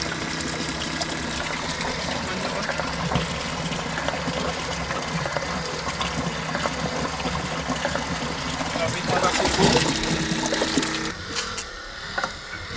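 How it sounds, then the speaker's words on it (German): A bilge water pump runs steadily aboard a boat during a refit, pumping water out with a continuous gushing, mechanical whir at moderate level that drops off near the end. "Also die Pumpe arbeitet und der Wasserstand sinkt wieder."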